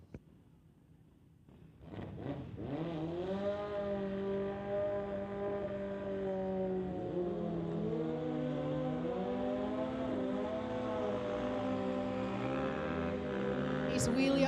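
A 2014 Beta 450 motorcycle launches off the line at a drag strip, its engine revving hard and climbing in pitch through the run, loud and close, with the roar carrying steadily to the end.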